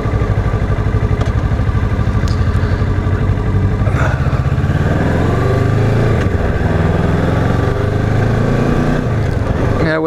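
Kawasaki Ninja 650R engine idling in neutral on a night ride, a steady throbbing hum close by that stays loud and constant, with a voice talking over it.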